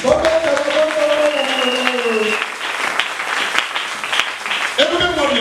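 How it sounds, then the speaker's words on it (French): A church congregation applauds during a Sunday worship service, a broad wash of clapping running steadily throughout, while a voice speaks and sings over it. "Applaudissez pour cette bénédiction."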